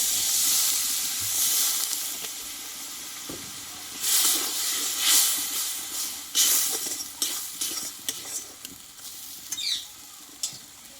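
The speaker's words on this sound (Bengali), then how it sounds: "এবার এখানে অল্প আমি একটু জল দিয়ে দেব" Water poured into a hot pan of frying tomato masala for a vegetarian ash gourd curry bursts into loud hissing sizzles, then repeated stirring scrapes and bubbling bursts continue close by.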